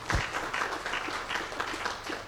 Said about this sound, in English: I'm quite sure he deserves a better clap than that.